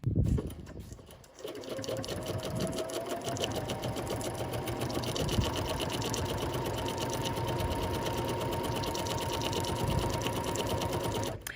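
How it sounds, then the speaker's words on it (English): A Bernina 880 Plus sewing machine stitches embroidery, starting up after a brief handling sound and then running in a steady, fast, even whir until the end. "I've threaded my machine for embroidery. I'm using my BERNINA 880 Plus"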